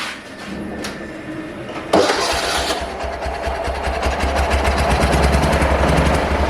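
A T-012 tractor engine fitted with a Chinese scooter carburetor starting, a cranking rattle followed by a sudden catch into a steady, loud, chugging idle.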